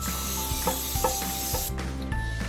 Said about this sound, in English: I have my butter spray. I'm just spraying all the edges so the bread don't stick